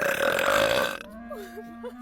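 A loud, drawn-out human burp, deep and rough for about a second, then quiet with faint background sounds after it.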